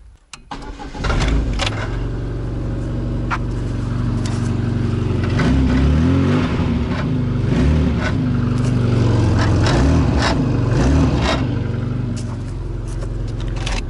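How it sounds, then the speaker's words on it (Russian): A VAZ-2114 car engine starts and runs steadily with a rasping, hoarse muffler, a loud close rumble that holds without pause. "Вот так вот и глушитель хрипит."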